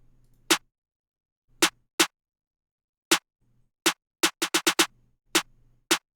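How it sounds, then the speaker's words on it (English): Sharp trap snare hits land on the off beats, sparse at first and then in a quick cluster, crisp and isolated over a faint low bass hum. "This is how this snare pattern sounds."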